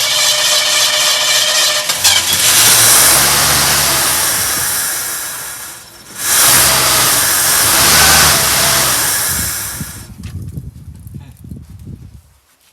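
A 1972 Ford F100 pickup's engine, started for the first time in years, roars loudly up close, revs hard, dips briefly, then revs again before settling into a rough, uneven idle.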